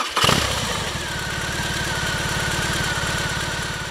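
A 2020 BMW R 18 cruiser motorcycle with a large boxer engine cranks and catches, then settles into a steady, loud, throbbing idle close by.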